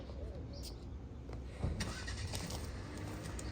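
A truck's engine cranks and catches partway through, then settles into a steady running rumble outdoors. Before that comes a low background hum with a few light clicks, and there is no clear talking.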